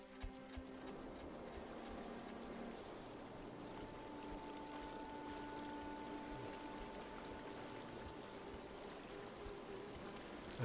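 Steady rushing waterfall in the Fatekeeper video game, a continuous faint broadband wash of falling water with some low game tones beneath it.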